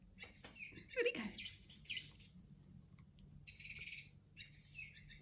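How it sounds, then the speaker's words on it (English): Several short bird chirps and tweets in a quiet indoor room, coming in separate bursts over a soft background hum. "I hear a birdie."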